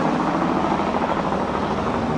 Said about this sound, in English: What was that? That was a helicopter.